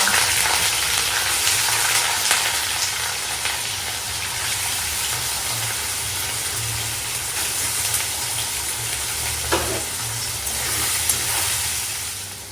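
Paneer fries in hot mustard oil in a wok, giving a loud, dense, continuous sizzle and hiss with occasional spits and faint stirring knocks throughout.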